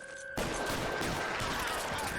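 Gunfire erupts in the LA Noire video game, a sudden loud blast after a brief quiet opening, followed by a sustained dense rattle of shots filling the rest of the moment.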